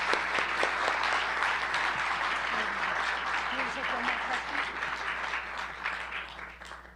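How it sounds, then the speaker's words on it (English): A crowd applauds steadily, a dense wash of many hands clapping that tapers slightly toward the end. "a round of applause for all the great work."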